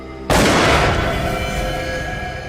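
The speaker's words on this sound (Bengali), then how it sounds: "স্যার, গুলির শব্দ।" A sudden loud gunshot blast in a TV crime drama, bursting in sharply after a brief quiet moment and leaving a long ringing, reverberant tail that slowly fades.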